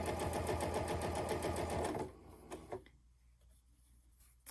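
A sewing machine stitches down a folded half-inch elastic casing on a berry carry-all case: a steady, rapid, close whir of stitching for about two seconds, then it stops, leaving faint handling clicks and near silence.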